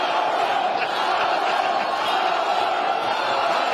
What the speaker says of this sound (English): The crowd's into it. I love it.